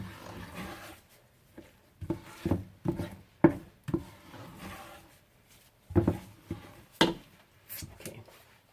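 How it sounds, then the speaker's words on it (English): A spoon scooping thick hot soap during soap making, a series of irregular soft thuds and scraping scoops spaced out with quiet gaps between, fairly close. "Gotta use a spoon now."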